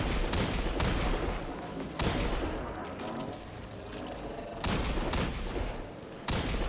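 Bursts of rapid turret gunfire in a Destiny 2 lost sector, loud, dense volleys arriving in several separate bursts with brief lulls between them, no talking.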